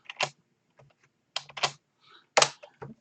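Fingers tap a computer keyboard in short clustered bursts of keystrokes, close and crisp, a few quick presses separated by brief pauses, with no voice over them.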